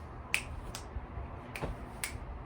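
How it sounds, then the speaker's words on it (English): Four sharp, isolated finger snaps during a hearing check at a health fair, spaced irregularly over a couple of seconds and faint against a quiet room hum. "Raise your hand when you hear me snap my fingers"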